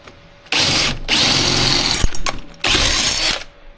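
A power drill bores through the sheet-metal floor of a 1989 Dodge W100 truck in close, loud bursts, with a short pause and a click between drilling runs.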